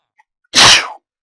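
A single loud, abrupt human sneeze, close and alone, a short burst in near silence.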